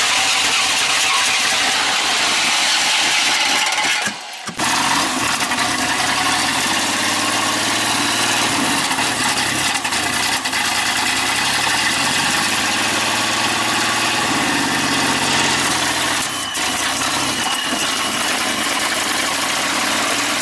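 A 1994 Chevy truck engine idles rich and loud right at the open bonnet, a steady rumble with a brief dropout early on and slight shifts in pitch, with no talk.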